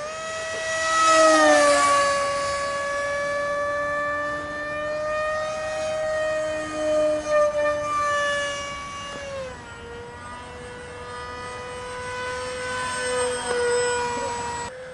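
A foam radio-controlled F-18 jet model flies past with a loud, sustained whooshing whine from air rushing through its intakes, rising and falling in pitch as it passes, with no talking.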